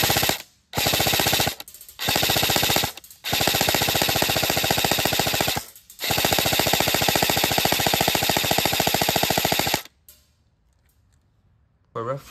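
Airsoft gun emptying a full magazine in rapid automatic bursts, loud buzzing fire broken by several brief pauses, then a quiet stretch and a final short burst at the end.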